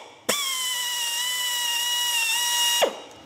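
A high-pitched air drill fitted with a wire brush whines steadily for a few seconds, starting and stopping abruptly, close and loud, while cleaning a Toyota AE86 front brake caliper during overhaul.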